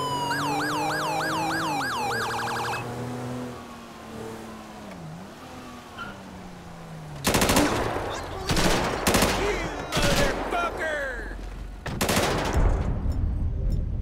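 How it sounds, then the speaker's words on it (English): Gunshots in Grand Theft Auto 5 with a police patrol mod, sharp bursts of shots ringing out after wailing police sirens and engine noise fade. "Shots fired."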